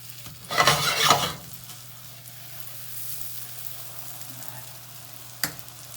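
Thick slices of brioche pain perdu fry and caramelize in a large pan, a quiet steady sizzle under a low hum, with a brief louder burst of scraping early and a sharp clink near the end.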